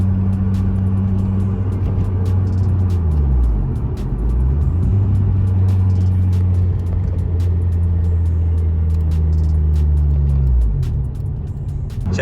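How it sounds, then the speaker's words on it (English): A Honda Civic Type R EP3 with a decat pipe drives steadily with a low, raspy exhaust drone, the engine pitch dipping and rising a couple of times as it shifts and pulls. "this is just to show the sort of driving noise, just usual day-to-day driving noise."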